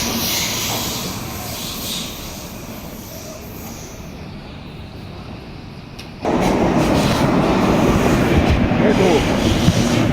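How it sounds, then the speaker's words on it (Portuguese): A train rumbles past with a constant roar that suddenly grows louder and denser midway, with faint rattling and hiss. "Mais um trem."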